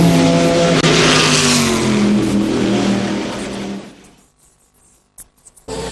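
An onboard race car screams at full throttle during an American Le Mans Series race, the engine note rising and shifting loudly before dropping away abruptly into a few sharp bursts near the end.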